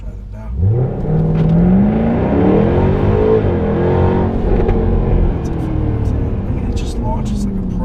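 A 2016 Jaguar F-Type R AWD coupe launches hard from a standstill, its engine roar climbing steadily through the revs, loud and close inside the cabin, with someone talking briefly over it.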